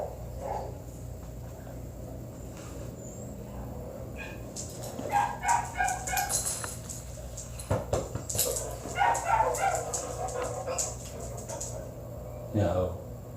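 A puppy at the vet whimpers and yips in scattered short bursts, fairly faint, with a few sharper barks among them, while people talk quietly nearby.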